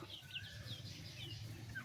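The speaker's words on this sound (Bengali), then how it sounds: "এই মুরগির বাচ্চাগুলা আমরা ছাদের উপরে পালতেছি" Young tiger-breed chicks raised on a rooftop in hot weather give faint, high peeps and chirps in quick, overlapping bursts against a soft background hum.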